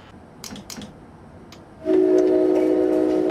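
Simulated ALP-45DP locomotive train in Train Simulator 2017 coming to a stop at South Amboy Station: faint rail clatter and clicks first, then a loud steady tonal hum and brake hiss rising abruptly and holding to the end.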